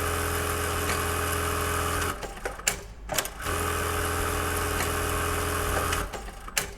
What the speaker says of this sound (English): When we put our foot down on the power pedal, it will start sewing